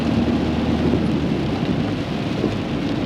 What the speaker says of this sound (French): Donc il pleut.